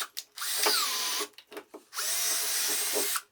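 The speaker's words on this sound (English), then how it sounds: "I use it to drill a couple of holes in each end of the wooden strip." A power drill bores holes into each end of a wooden strip used as a jigsaw fence, with several loud, close whirring runs of varying length broken by short pauses.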